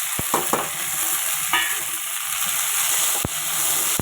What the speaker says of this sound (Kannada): ಈಗ ಟೊಮೆಟೊ ಹಾಕೋತಾ ಇದ್ದೀನಿ